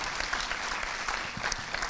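An audience at a film meeting with the director and actors claps briefly, with a fairly soft, continuous patter of hands and no voices.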